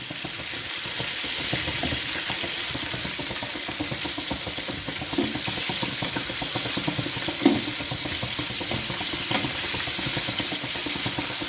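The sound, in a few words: KFC-style chicken deep frying in oil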